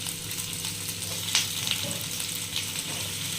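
Onions frying in a pan as tomatoes are added, for a home-cooked matar paneer sabzi, make a loud, continuous close sizzle with a brief bright clatter and scrape midway, and no voices.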